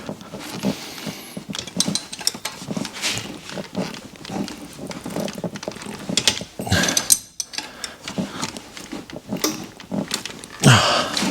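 Mechanical clicking and ratcheting from a ratchet wrench tightening the turbo oil feed line on a Subaru WRX engine, in irregular bursts of close, fairly loud metallic clicks with no talking.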